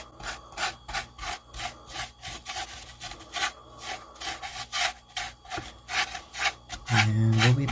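A brush works paint onto a wooden model tower, producing repeated close, scratchy rubbing strokes in a steady back-and-forth rhythm, ending with a louder sustained scrape.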